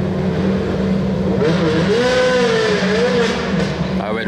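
A rally car on the Monte-Carlo Rally making a hill start, engine droning loud and near as revs wobble and climb, with a smoking clutch and a whirring note, under background crowd chatter.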